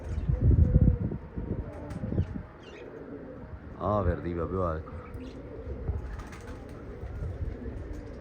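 Pigeons coo in a short rhythmic burst in the middle, with someone talking nearby before and after.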